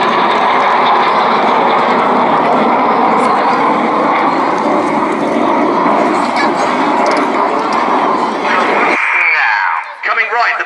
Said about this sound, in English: the pilots use lots of rudder to swing the jets out like a pendulum